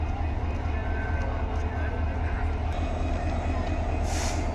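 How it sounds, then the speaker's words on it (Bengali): A passenger train bound for Rajshahi pulls out of Joydebpur station on line three, its steady low rumble and rail noise continuous throughout, with faint voices in the background. "আমরা দেখতে পাচ্ছি রাজশাহীর উদ্দেশ্যে ট্রেনটি ছেড়ে চলে যাবে তিন নম্বর লাইন থেকে"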